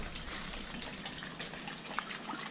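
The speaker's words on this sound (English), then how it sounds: "We've got a lot of water" Water rushes steadily into a newly dug garden pond, a continuous broadband gush with little change in level and one brief splash near the end, no talking.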